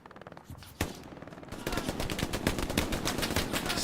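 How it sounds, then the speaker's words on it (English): Machine gun fire in Hell Let Loose: a few scattered shots at first, then a dense, continuous rattle of rapid bursts close by, loud and sustained to the end. "Special goes down from the MG fire from Baby Shark"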